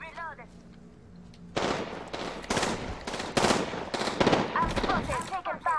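Bursts of gunfire from Apex Legends, several rapid volleys and single shots ringing out over about four seconds, mixed with game effects; a voice talks briefly before the shooting starts.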